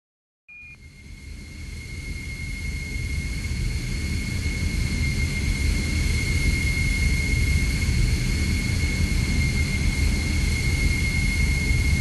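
A jet aircraft in a video game, the F-55 Ion, powers up for a long takeoff roll down the runway, with a steady loud engine roar and a high whine that build and hold throughout with no talking.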